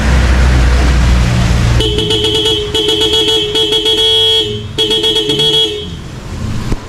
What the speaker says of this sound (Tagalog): Tapos sa taas ito, G-Star dual horn version 3.